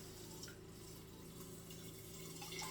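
Tap water runs steadily into a Pyrex bowl, eight cups being measured out for cooking beans; a continuous, fairly quiet splashing flow with a faint hum beneath and a few brighter drips near the end, no talking.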